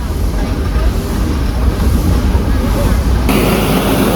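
The steam engine of the Nilgiri Mountain Railway toy train rolls through monsoon forest with a loud, continuous rumble and clatter, heard from on board. The tone shifts and brightens near the end.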